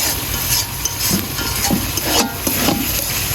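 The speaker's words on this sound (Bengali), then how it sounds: "এখন আমি নাড়া দিয়ে দেবো।" Beef tongue curry being stirred in a pan, a continuous close sizzle with rhythmic scraping strokes of the spoon across the pan, no voices.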